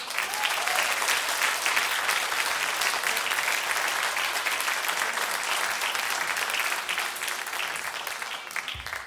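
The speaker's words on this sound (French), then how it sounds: "que je vous demande d'applaudir également" Sustained applause from a large audience at a jazz concert, steady and loud throughout, with many hands clapping densely and no pauses.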